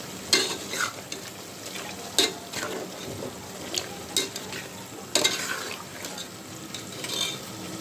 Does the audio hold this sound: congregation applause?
no